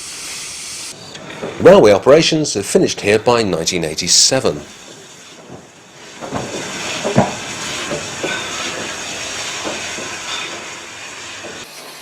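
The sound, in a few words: Andrew Barclay fireless steam locomotive hissing and running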